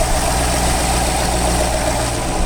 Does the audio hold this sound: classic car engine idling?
yes